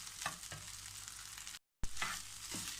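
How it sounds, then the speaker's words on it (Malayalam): Egg fried rice is stirred in a hot pan, close sizzling and frying with scraping stir strokes, one sharp stroke near the start, and a short break of silence partway through. "നല്ലോണം ഒന്ന് മിക്സ് ചെയ്ത് കൊടുത്താൽ മതി"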